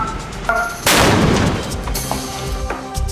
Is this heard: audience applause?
no